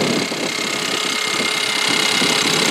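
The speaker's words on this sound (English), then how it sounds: "Fairly quiet little 4-cylinder engine. Just started, it's a little cold." A cold, just-started 4-cylinder engine in a 2019 Ford Edge Titanium fitted with a K&N air filter idles steadily and fairly quietly, a close, even mechanical hum with a light ticking texture and no talk.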